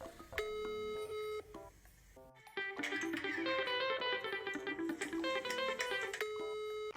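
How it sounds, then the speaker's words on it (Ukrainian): Electronic telephone tones sound in steady, evenly spaced beeps, with a brief busier stretch of layered melodic tones in the middle, fairly close and clear. "Та гудки йдуть."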